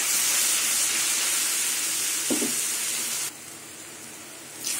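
Mustard greens frying in a pan with garlic, ginger and onion give off a steady, even hiss that drops suddenly to a quieter sizzle partway through, with a brief low knock in between and no speech.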